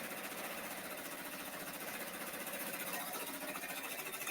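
Rapid, steady mechanical chatter from a multi-needle embroidery machine stitching out a hat and glove design, a continuous even whir with fast repetitive needle strikes, close and moderately loud, with no voices.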